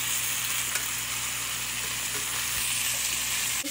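Meatballs browning in a hot pan give off a loud, dense, continuous sizzle, steady and close, with a small clack near the end and no talking.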